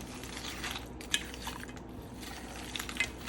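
Frozen cheese tortellini being stirred briefly into diced tomatoes in a pan, with faint scraping and clinking of a utensil against the pan and a couple of sharper taps.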